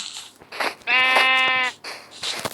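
A single sheep bleat from the Minecraft video game, a clear, wavering baa lasting under a second, sounding close and loud between faint background noises.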